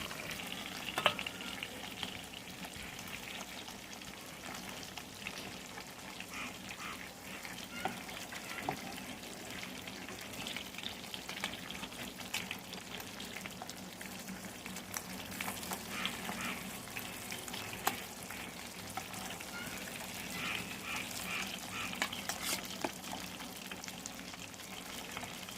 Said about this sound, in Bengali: মাছগুলো দুপিটি লাল লাল করে ভাজা হয়ে গেছে